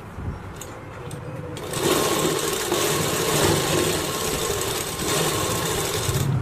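A sewing machine runs close and loud, stitching a circle blouse seam in one continuous whirring burst after a brief quieter start.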